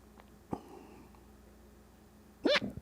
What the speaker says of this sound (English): Almost feel hiccups coming on.